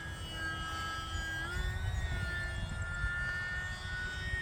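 A small E-flite UMX Pitts S-1S RC model airplane flies overhead, its electric motor giving a steady whine that shifts in pitch as it maneuvers, moderately distant.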